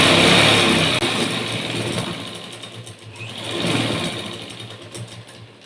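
A sewing machine stitches a folded quarter-inch hem on blouse lining, giving a continuous close whirring hum that slows briefly midway and then picks up again, with no voices.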